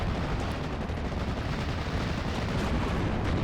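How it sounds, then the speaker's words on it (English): In Steel Division: Normandy 44, a Panzer III tank fires on a Cromwell at close range amid a thick, unbroken din of gunfire and artillery rumble that fills the battlefield, with no voices over it. "The Feldpanzer 3 going for the shot onto the Cromwell 7 at close range,"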